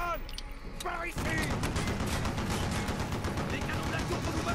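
Tower guns blast in a Call of Duty: Black Ops battle, a sudden dense fusillade of heavy gunfire that erupts after a moment and pounds on continuously, loud and close, with shouted voices mixed in.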